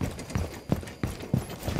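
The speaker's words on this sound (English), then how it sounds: "I hear some footsteps down below" Footsteps sound from below in a tactical shooter video game, a series of about five heavy, thudding steps in an uneven rhythm, moderately loud, with no talk.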